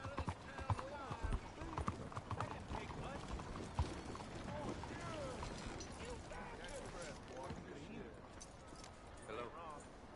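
A horse trots with rhythmic clip-clopping hooves in Red Dead Redemption 2, the hoofbeats blended with game sounds and a voice talking over them.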